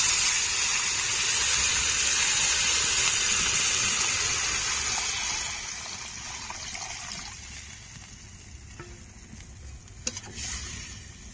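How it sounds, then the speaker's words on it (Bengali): Water poured into a pan of potatoes frying in oil, a loud rushing sizzle and hiss that gradually settles into quieter bubbling, with a couple of sharp clinks near the end. "ভালো করে আলুগুলো কষে নিয়েছি, এবার জল দিয়ে দেব।"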